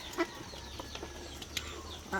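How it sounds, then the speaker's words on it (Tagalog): Four-month-old farm ducks call in short, scattered quacks at a duck farm, several brief calls over about two seconds against a soft outdoor background. "So ayan mga idol, ating mga itik."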